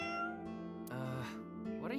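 A voice meowing at a lucky cat statue in the video game AI: The Somnium Files, a drawn-out imitation cat meow followed by shorter rising meows, close and clear with game music faintly underneath.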